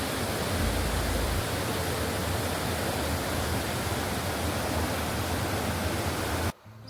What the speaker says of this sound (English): Everywhere today has just been running water.